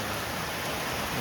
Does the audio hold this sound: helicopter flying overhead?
no